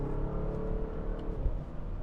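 A 2021 Audi SQ7 cruising in comfort mode, its engine a steady low rumble with faint tyre and road noise, no clear gear change standing out over two seconds.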